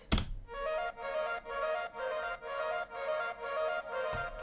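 A layered synth harp preset from Serum with an electronic tone plays a steady run of repeated plucked notes, about seven even pulses, bright and close with a sharp transient at the start and another near the end.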